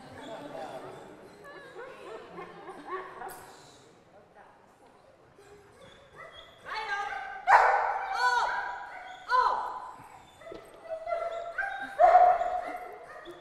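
A dog barks in short, intermittent bursts that get louder and more frequent toward the end, mixed in with people talking nearby.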